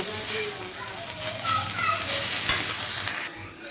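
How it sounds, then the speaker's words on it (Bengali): Shrimp frying in oil in a pan, a loud close sizzle with stirring scrapes and faint voices in the background, cutting off abruptly near the end. "চলো চিংড়ি মাছগুলো ভাজা হোক"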